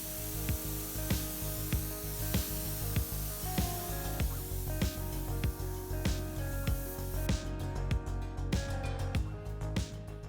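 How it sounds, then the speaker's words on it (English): A clear protective film is sprayed onto the outside panels of a Porsche Boxster, giving a steady hiss broken by repeated short spray bursts in an even rhythm, close by, with no talking. "We just got to spray the slime on the outside panels."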